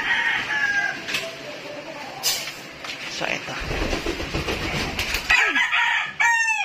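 Chickens kept near a house doorway, where a rooster's rising crow cuts in near the end over scattered clucking and household noise while a person speaks.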